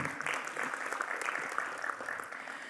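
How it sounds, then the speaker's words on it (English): An audience at the MEWA 2025 inauguration claps in a steady, moderate round of applause heard from a distance, with no voices over it. "Let's give Mr. Behram a warmer round of applause as we welcome him."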